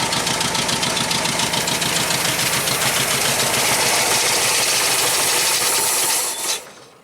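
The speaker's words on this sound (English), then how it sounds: "I cannot believe it's sitting here just idling right now." A loud, steady 1973 AMC Gremlin 5.0-litre V8 idles with a rapid, even chugging pulse, running continuously before cutting off abruptly near the end.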